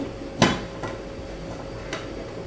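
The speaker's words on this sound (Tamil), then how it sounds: "இப்போ நம்ம இதை நல்லா கிண்டிட்டு இந்த லிட்டை போட்டு மூடுவோம்." A lid is set on a cooking pot of beetroot soup with one sharp metallic clink, followed by two fainter taps in an otherwise quiet kitchen.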